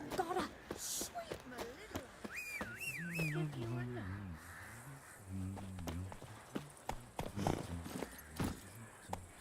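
Roach, the horse in The Witcher 3, runs with rhythmic clopping hooves under game ambience, while a person talks over the first half.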